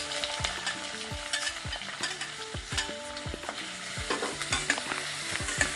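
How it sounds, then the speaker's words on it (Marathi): Onion and green chili tossed into hot oil in a wok, sizzling and frying steadily with clinking stirring strokes of a spatula against the pan, close and continuous with no voices. "आता आपण कांदा मिरची टाकूया त्याच्यामध्ये."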